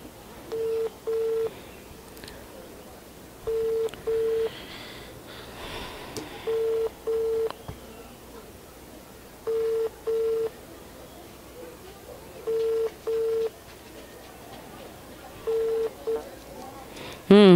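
A telephone call being placed, with a repeating ringback pattern of paired tones sounding at steady intervals of about three seconds, clear and prominent over a faint hiss, ending with a brief click.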